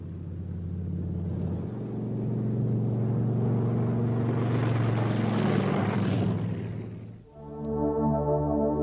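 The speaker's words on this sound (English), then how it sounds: "The drones are returned to base, and the mother plane hands over to ground control for landing." A B-17 Flying Fortress drone aircraft comes in to land, its propeller engines droning steadily and loudly before the tone shifts and drops sharply near the end, then a lower engine hum returns.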